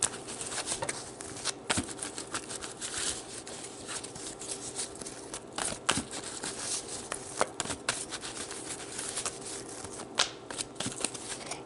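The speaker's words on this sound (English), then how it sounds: "So let's pull some more cards to get more information," Tarot cards being shuffled over and over, a continuous soft riffle of flicking, slapping card edges with sharper snaps now and then, close to the microphone.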